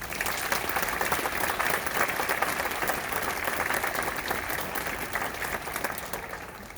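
Broad, steady applause from a concert audience at an all-district band performance, sustained clapping filling the room at moderate level for several seconds before tapering slightly at the end.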